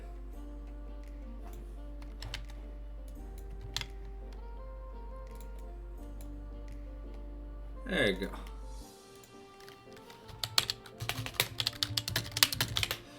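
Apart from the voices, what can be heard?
typing on a computer keyboard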